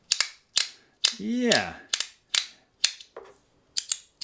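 Sharp, loud clicks from a zirconium haptic coin fidget toy snapping one after another at an uneven pace, with a brief spoken word between them, up close.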